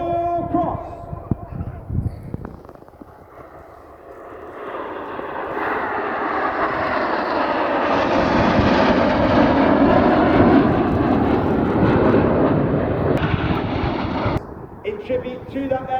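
Red Arrows jet aircraft flying a formation display at the Royal International Air Tattoo, a loud jet roar that builds and swells as the aircraft pass, with an announcer commenting throughout.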